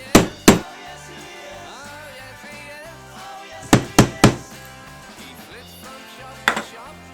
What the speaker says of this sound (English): I'm going to put the hole punch right where it goes, and then I'm going to give it a good couple of slams